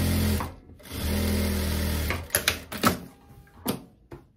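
A sewing machine stitches a pocket onto wide-leg trousers in two close, steady whirring runs, then stops for several sharp clicks and knocks of fabric handling.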